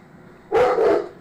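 Indoors, a pet dog lets out one loud, close double bark at a television, with no voices over it.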